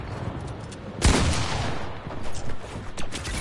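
Gunfire in the video game Fortnite: a loud burst of shots hits about a second in, then scattered fainter reports and game noise continue.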